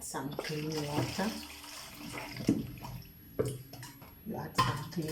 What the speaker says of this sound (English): Add some clean water.